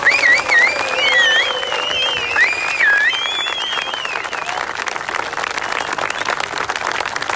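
Steady crowd applause at the Rallye Breslau 2021 award ceremony fills the clip, a dense wash of clapping with cheering and whistles rising over it, loud and sustained throughout.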